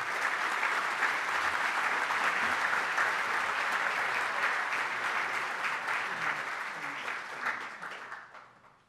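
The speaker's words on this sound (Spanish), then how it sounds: "Un aplauso para el doctor Julio Kotler." Conference audience applauds a keynote speaker at an international electoral studies congress, a dense, steady wash of many hands clapping for about nine seconds before fading out at the end.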